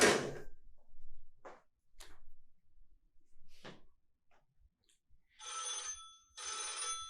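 A telephone rings on stage during a school drama production, two long bright rings near the end after scattered knocks and thumps of set movement in a quiet room.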